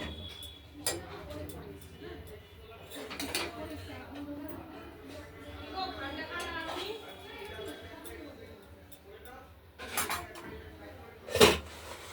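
Vegetable shukto of raw banana, bitter gourd, red potato, carrot and drumstick stems is stirred in a cooking pot, with scattered soft scrapes and a few sharp clinks of a spoon against the metal under quiet room sound.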